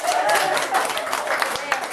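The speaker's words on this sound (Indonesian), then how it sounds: "Tepuk tangan dulu." Audience applause at a waste-management training session in Bojonegoro, a steady dense wash of clapping lasting a couple of seconds, fairly loud, with some speech mixed in.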